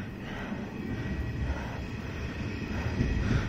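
A Hanshin electric train runs near Daimotsu station, a steady low rumble and rolling hum carrying throughout at moderate distance, with no voices.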